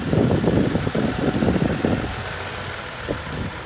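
A 2017 Toyota Tacoma engine idles close by with a steady low rumble and light mechanical whir, a little busier at first before settling into an even, quieter idle.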